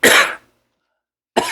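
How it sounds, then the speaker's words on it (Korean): A person with a persistent cough during a live broadcast coughs hard in a short harsh burst, then a pause of silence before another cough begins, loud and close. "방송하다 기침 나오면 안 될 것 같아가지고 실컷 기침하고 방송을 시작했는데 끝낼 때쯤 되니까 또 나오기 시작하네요"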